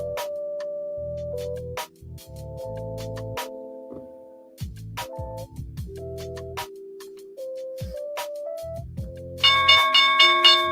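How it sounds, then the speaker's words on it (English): Ringing bell tones at a stock market opening, a series of sustained pitched strikes over about ten seconds, with a brighter, louder ringing burst near the end, heard alone without talk. "All right, there's the opening bell."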